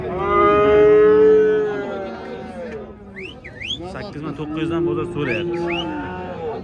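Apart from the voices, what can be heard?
cattle mooing at a livestock market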